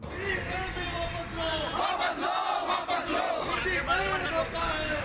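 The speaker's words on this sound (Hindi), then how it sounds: "लखनऊ में हजरतगंज इलाके में सैकड़ों कर्मचारियों ने जोरदार प्रदर्शन किया और निजीकरण के विरोध में धरना दिया" Hundreds of bank employees protesting privatisation in Hazratganj, Lucknow, raise a loud, continuous crowd roar of chanting and shouting voices.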